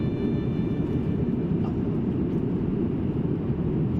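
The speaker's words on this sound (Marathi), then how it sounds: "विमानाचा आवाज जास्त येत आहे तुम्हाला" Constant low roar of jet engines fills an Air India aircraft cabin on a Delhi to Mumbai flight, a steady, unbroken drone with no talking.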